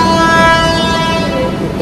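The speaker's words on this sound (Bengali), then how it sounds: "এটা হচ্ছে আমাদের ট্রেনটা" A train sits at platform 3 of a Kolkata station, with a loud sustained horn-like tone over steady, busy platform rumble for under two seconds.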